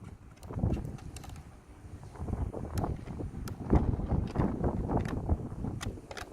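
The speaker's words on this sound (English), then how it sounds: "It's mad windy out here, guys." Strong outdoor wind buffets the microphone in gusty, rumbling bursts that rise and fall irregularly, fairly faint overall with no talk.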